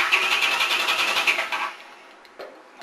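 A starter motor on a 1981 Honda Silverwing GL500 motorcycle whirs and grinds steadily for about a second and a half close by, then cuts off, leaving near silence and a brief click-like rattle.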